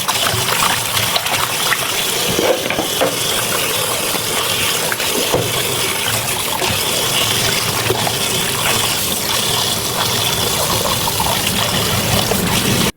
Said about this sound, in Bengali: আর দেখি মাছটাও আমি ধুয়ে নিচ্ছি।